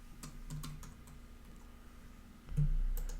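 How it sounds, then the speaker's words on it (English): Someone types an email address on a computer keyboard, a run of quick, light, irregular keystrokes close by with a louder thump near the end and no talking. "I'm going to type in here the email address"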